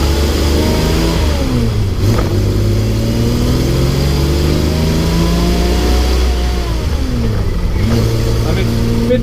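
A manual-transmission car engine, choke in, revving up through the gears: the engine note climbs, drops at each shift and climbs again, loud and close, with speech over it.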